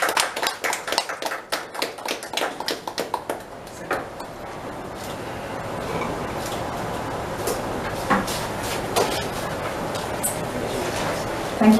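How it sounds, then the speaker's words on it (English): Audience at a book launch giving a round of applause: a few seconds of sharp, scattered individual claps close by that quickly thin out and fade into quiet room murmur. "A louder clap, round of applause, please."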